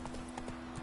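A horse gallops in the video game The Witcher 3, a quick run of muffled hoof clip-clops at a steady rhythm, faint under a low background hum.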